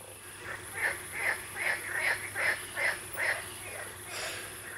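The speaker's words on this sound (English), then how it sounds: "One thing you may not anticipate when fishing in Europe is the frogs." A frog by a French fishing lake croaks in a quick, regular series of about eight rasping calls, fairly close, over a quiet background hiss.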